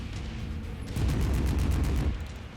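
Short-range missiles in MechWarrior 5 fire in a rapid salvo, a dense rumbling burst of whooshes and thuds that swells after a quiet start and fades after about a second, loud and close with no talk.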